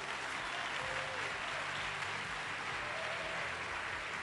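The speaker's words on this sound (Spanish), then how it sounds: "Fuerte ese aplauso" Audience applause at the Premios Pulsar 2015 music awards in Chile, a loud sustained crowd of clapping that fills the whole stretch, with faint voices mixed underneath.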